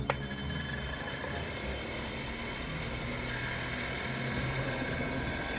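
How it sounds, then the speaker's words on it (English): Motorized engines of a custom GI Joe Classified toy whale run with a steady, close buzzing whir and faint rattly vibration, holding an even level throughout with no talking. "And the engines do still work."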